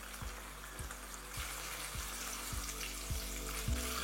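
Paneer triangles fry lightly in shallow oil with a steady, close sizzle, while a low rhythmic tapping pulses underneath throughout.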